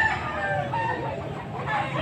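A young gamecock stag crows nearby amid clucking and other fowl sounds at a cockfighting-bird market in Pampanga, with no talk over it.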